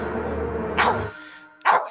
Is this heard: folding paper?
no